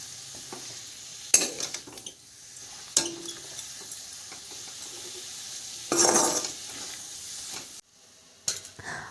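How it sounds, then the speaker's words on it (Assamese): Chicken pieces dry-fry in a pan without oil as they are stirred, giving soft scraping, scattered clinks of utensil on metal and short bursts of sizzling between quieter moments. "এই চিকেনখিনি এনেকৈ শুকানকৈ ভাজি লওঁ।"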